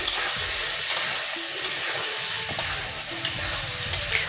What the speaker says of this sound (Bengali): এটার মধ্যে অল্প অল্প করে জল দিয়ে মা আবার নাড়াচাড়া করে নিচ্ছে